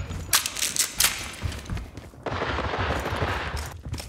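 Shotgun fire in the shooter World War 3: several sharp, loud blasts in quick bursts early on, then a denser stretch of gunfire under faint voices.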